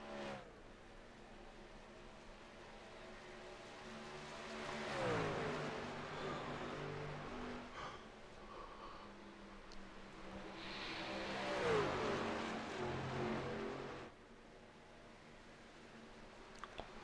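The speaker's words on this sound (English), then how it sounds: "So a lot of cars coming down pit lane now." Race trucks from the ANZCAR Trucks series roll down pit lane during a race, two separate passes swelling up and fading away over a steady background engine drone, with no talk over them.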